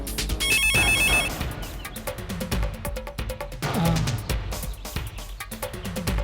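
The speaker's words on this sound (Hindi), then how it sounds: "आपका फोन।" A telephone rings loudly in a Hindi comedy film scene, an electronic ringtone repeating in bursts over background music with no talk.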